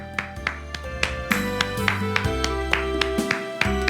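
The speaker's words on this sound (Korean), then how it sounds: "오늘도 저와 여러분과 함께 하신 우리 하나님께 감사의 박수 드리겠습니다" A church congregation at a Friday prayer service claps in thanks to God, sharp claps landing on a steady beat over sustained keyboard music, moderately close and continuing throughout.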